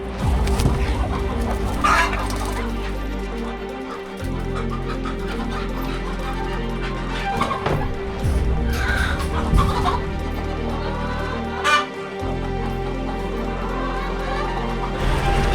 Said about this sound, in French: on bouge les poules de place